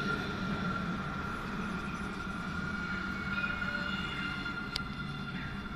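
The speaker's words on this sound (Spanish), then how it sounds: "Aquí viene el tranvía. El tranvía de Cuenca." The Cuenca tram pulls in on a city street in front of a hotel, a steady mechanical hum with a sustained whine, then a brief sharp metallic tick near the end, moderately distant and without speech.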